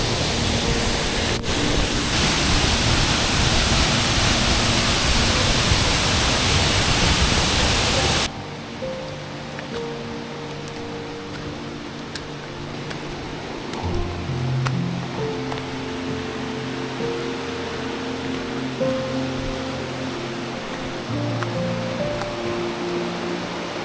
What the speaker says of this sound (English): Here we go, the first waterfall.